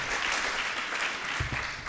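A seminar audience in a discussion gathering gives a welcoming round of applause, an even wash of many hands clapping steadily throughout, moderately loud and continuous with no voices over it.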